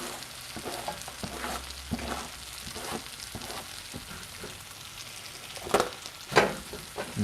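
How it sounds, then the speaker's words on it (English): Chopped spinach tumbles into a pan of sweated onions, garlic, ginger and spices, frying with a constant crackling sizzle broken by scraping stirs and a few sharper clanks near the end. "I'm gonna go ahead and just dump my spinach that's been chopped in here"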